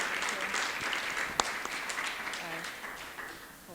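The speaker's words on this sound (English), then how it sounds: "let's give each other a round of applause" Audience at a women-in-tech panel event applauds the panelists, a steady wash of clapping lasting several seconds with one sharp louder clap, faint and fading toward the end.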